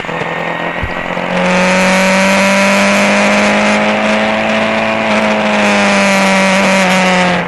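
Historic Formula Ford 2000 race cars roar around the Brands Hatch Grand Prix circuit, a loud sustained engine drone rising as a car closes in and holding at full volume throughout.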